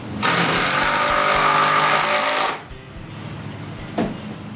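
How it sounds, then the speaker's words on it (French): A power screwdriver drives screws through small triangles into a window rafter while an workshop is being built, one loud sustained whir for about two seconds, then it stops, followed by a short sharp knock. "je visse des petits triangles sur l'arbalétrier du haut des fenêtres"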